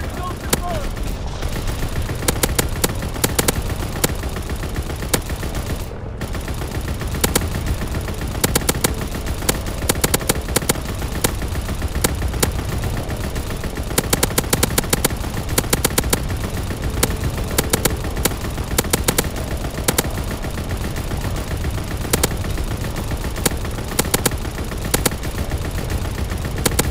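Rapid aircraft gunner machine-gun fire rattles nonstop in the Call of Duty WW2 video game, with dense bursts of overlapping shots filling the whole stretch at a loud, steady level.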